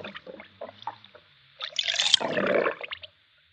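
A wolf, heavy with stones in its belly, topples into a small river in a narrated children's fairy tale, producing a loud, close watery splash that surges and then trickles off, following some softer dripping sounds.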